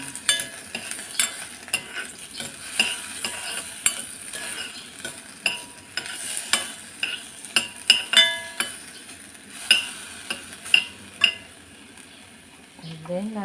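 Onions being stirred in a cooking pan for a tofu and egg soup with saluyot, heard as a steady run of clinks and scrapes from a utensil against the pan over a soft sizzle.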